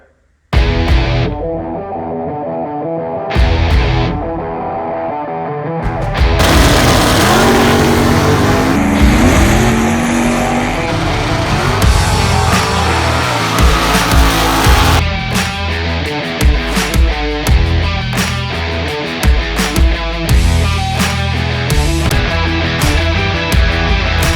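A 1971–72 350 V8 car engine, idle for twenty-five years, cranks and fires, then runs loud and rough with steady revving roar up close, surging and settling over the span with no talking.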